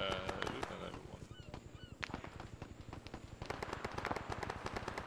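Rapid, repeated shots in the military shooter Arma 3, a steady crackling train of reports throughout, faint in level with no voices over it.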